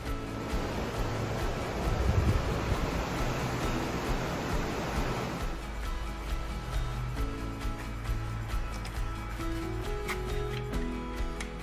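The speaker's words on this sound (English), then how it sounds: "just listen to the waves" Ocean waves at night heard from a cruise ship balcony, a steady broad wash of surf and wind, loud and continuous, with no one talking.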